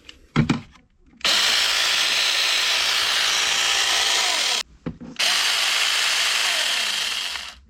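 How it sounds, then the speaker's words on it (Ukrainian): A cordless battery-powered saw cuts wood in two long, loud, steady runs of harsh whine, each lasting a few seconds, with a short pause and brief handling knocks before and between them. "Ось так працює ця пилочка."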